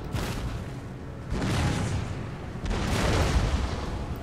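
Artillery cannon fire on an Empire: Total War battlefield, a dense rumble of heavy booms building in waves, with louder surges around the middle and near the end and no talk.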